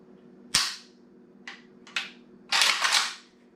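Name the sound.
working the stiff action of a Beryl M1 Carbine rifle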